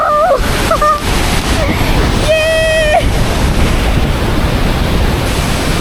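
Broad, steady roar of water pouring down the large Attukad waterfall near Munnar, loud and unbroken throughout, with brief whistling tones cutting through the rush.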